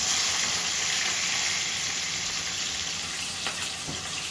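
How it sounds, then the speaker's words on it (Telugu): Onion and green chillies frying in a pan, giving a loud, steady broadband sizzle throughout that eases slightly toward the end, with no talking. "ఇప్పుడైతే ఉల్లిపాయ పచ్చిమిర్చి కూడా వేసుకుంటున్నాను"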